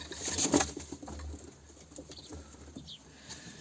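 A pigeon returning to its loft, with a brief flurry of wing flaps and patter up close at the start, followed by faint scattered rustling and soft coo-like sounds.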